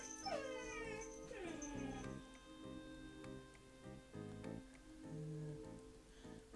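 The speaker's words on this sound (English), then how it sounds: "Oh, shut up, dog." A dog whimpers and yips in a run of rising, falling cries, then gives short barks further on, fairly faint and in a room with no talk.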